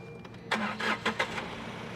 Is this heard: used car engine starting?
yes